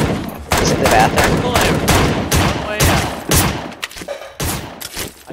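Rapid gunfire bursts in the video game Surviv.io, loud close volleys of shots in quick succession with short gaps between them.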